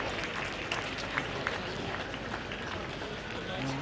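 Celtic supporters in the stadium roar as Bobo Balde comes on as a substitute during a 2008 pre-season friendly at Middlesbrough; a steady, dense crowd wash with a few sharper swells, heard from a distance.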